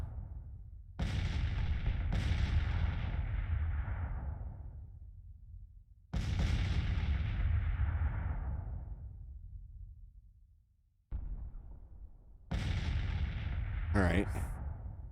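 Civil War artillery booms repeatedly in Grand Tactician during a Gettysburg battle, each heavy blast rolling into a long decaying rumble, with four or five shots spread out and a brief voice near the end.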